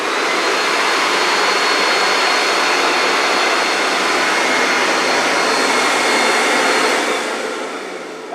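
A Camvac dust extractor runs on one motor with a 4-inch hose attached, giving a loud, steady airy roar that holds for several seconds before winding down near the end.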